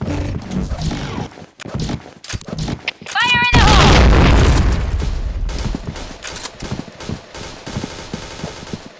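A grenade detonates in a first-person shooter, a loud blast with a roaring tail about four seconds in, amid scattered gunfire clicks and bursts, with voices talking around it.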